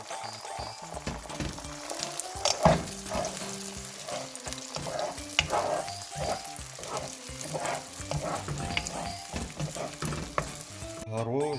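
Two eggs are stirred and scrambled in an oiled frying pan, with a steady soft sizzle under repeated scraping and stirring strokes against the pan, close and continuous.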